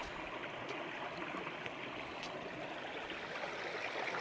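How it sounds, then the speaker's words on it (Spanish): A river flows in a steady, soft rush of water, continuous and even, heard alone with no talking. "Qué rico, qué bonito se oye el río."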